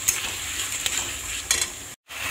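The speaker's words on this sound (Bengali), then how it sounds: "দিয়ে ভালো করে মশলাটাকে কষিয়ে নিতে হবে" Garlic paste masala being fried and stirred in a pan, a sizzle with spoon scrapes and clinks against the pan, close and moderate, briefly dropping out near the end.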